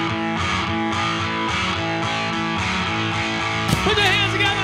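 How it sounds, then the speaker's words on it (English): A heavily distorted electric guitar plays a rock song intro, dense and loud with sustained chords and a brief surge near the end, no talking over it. "A lot of bands use way too much distortion when it comes to starting the song."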